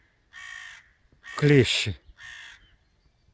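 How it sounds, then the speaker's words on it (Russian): Loud crow caws ring out in three calls outdoors, the middle one overlapped by a person speaking. "И ворона разрывается."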